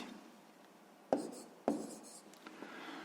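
Numbers written by hand while working a sixth-grade math exercise: soft scratchy pen or pencil strokes with two sharper taps, quiet and close, with no talking.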